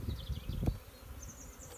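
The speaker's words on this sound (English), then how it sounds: "There's plenty of bees on there and brood." Honey bees buzz around a brood frame lifted from a mini-plus mating nuc, a soft, close hum with faint rustling and a brief knock.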